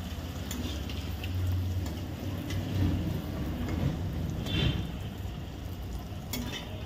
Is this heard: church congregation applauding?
no